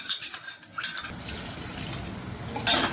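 Water poured into a pot of mashed pav bhaji vegetables seasoned with pav bhaji masala; a brief utensil clink, then a steady splashing pour with metallic pot sounds and a final clatter, no talking.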